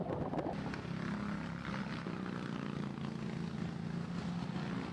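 Several racing karts in a Sprint 390 race drive past on a circuit's back straight, with a buzzing, droning engine noise that holds at a fairly steady level and sounds somewhat distant.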